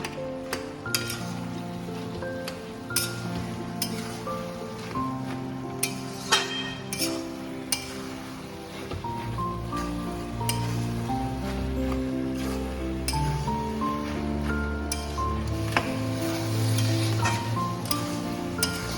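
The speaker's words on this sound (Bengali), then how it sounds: "এরকম মিশিয়ে আরো 5 মিনিট নাড়িয়ে নিতে হবে।" Pui shak (Malabar spinach) and mixed vegetables cook in a pan during chanchra preparation, stirred with sharp clinks and scrapes of a utensil over a low sizzle, in a fairly busy, close rhythm without speech.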